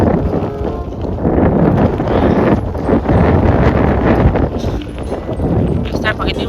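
Strong wind buffets the microphone at Smoky Lake, Alberta, a loud, gusty rumble and rustle that swells and eases throughout, with a person talking faintly underneath.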